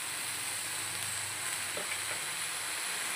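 Steady, loud sizzling of spring onion greens sautéing in a pan with sprouted moong, a continuous hiss with faint stirring scrapes and no talking.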